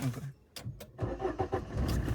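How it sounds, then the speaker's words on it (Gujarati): A Suzuki Swift car engine starts by push button after a few short clicks, then idles with a mid-pitched hum, close by. "લે ભાઈ પુશ બટન છે સ્ટાર્ટ કિયા"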